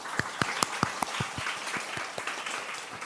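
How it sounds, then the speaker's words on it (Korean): A church congregation at a Sunday service claps in thanks: a run of sharp, evenly paced claps that blends into looser scattered applause, fairly close and moderately loud. "우리 하나님께 감사의 박수 함께 올려드리겠습니다"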